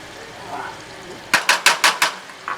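Yoghurt and spices stirred into a pan of chicken korma on reduced heat, five quick, evenly spaced scraping strokes followed by one more, close and fairly loud over a quiet background.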